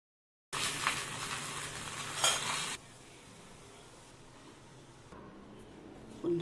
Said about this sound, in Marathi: तव्यावर आता तेल टाकून शेकून घेऊया.